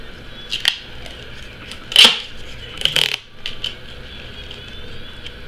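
Duct tape being cut with scissors, giving a few short crisp snips spaced a second or so apart over a low room background.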